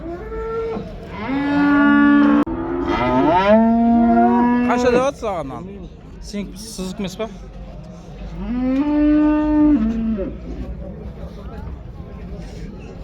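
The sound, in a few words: cow mooing at livestock market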